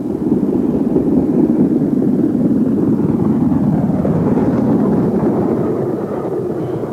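The LMS Black 5 steam locomotive 44932, Midland Trust, runs near its Derbyshire home as a loud, steady, broad rumble that continues throughout with no distinct chuffs.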